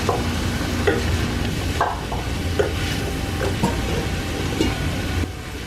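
Onions and herbs sizzle steadily in a pot while a utensil stirs and scrapes in repeated, close strokes every second or so.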